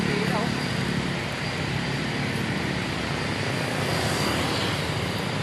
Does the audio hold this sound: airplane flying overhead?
yes